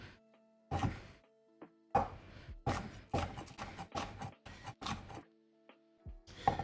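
A knife chops hot chili peppers on a cutting board in a quiet kitchen, giving a string of sharp, close taps in uneven bursts with brief pauses between them.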